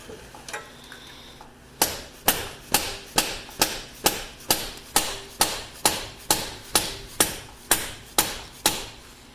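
Steady, evenly spaced thuds of a rubber hammer tapping a front CV axle into a 2003 Toyota 4Runner, about fifteen blows in a row, close and moderately loud.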